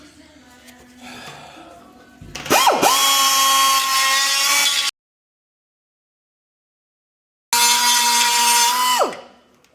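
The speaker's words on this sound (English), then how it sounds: "So I'll just clean that up with the die grinder." Die grinder cleaning up a steel vehicle suspension frame, a loud, close, high-pitched whine in two bursts separated by silence, each spinning up and then winding down.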